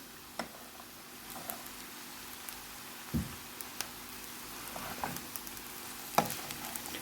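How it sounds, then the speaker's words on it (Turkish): Boiled chickpeas tipped into a pan of well-toasted rice for a Turkish chickpea pilaf, giving a quiet, steady sizzle with a few soft clicks and stirring bumps, fairly faint and without talk. "Nohutumu da ilave ediyorum."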